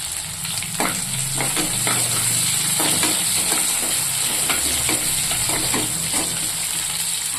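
Sliced onions (small sambar onions or large onions) sizzle loudly in a hot pan as a spoon repeatedly scrapes and stirs them, the frying crackle steady and close with no talking.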